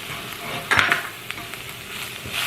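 Red chili pepper, ground coriander and turmeric powder frying briefly in a hot pan with shrimp in coconut sauce, a soft steady sizzle with a short burst of stirring and scraping near the start.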